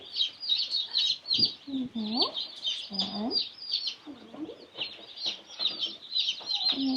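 Young chicks newly placed in their home peep in a constant high chatter, with softer clucks and chirps woven through, steady and close throughout.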